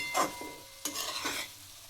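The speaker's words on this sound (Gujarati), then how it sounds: "થોડા ઉપરથી લીલા ધાણા, લીલું લસણ નાખીને હલાવી લઈશું." A spoon stirs Gujarati dana muthiya sabzi with coriander and green garlic in a pan, three soft scraping strokes over a faint sizzle, close and without talk.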